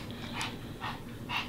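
A dog pants and licks up close, with three short bursts of wet breathy panting spaced through a quiet moment.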